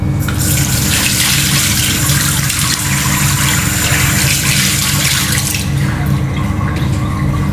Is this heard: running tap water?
yes